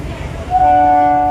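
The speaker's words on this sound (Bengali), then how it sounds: "এবার চলে এসেছি ট্রেন থেকে, এবার নামতে হবে।" A train rumbles close by, and a sustained horn tone rises out of the noise halfway through and holds to the end.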